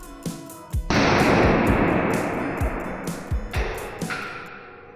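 Hornady high-performance hollow point rounds fired into a test target: a single loud, sharp report near the start followed by a long broadband roar and reverberant decay, with a few smaller knocks and clicks after.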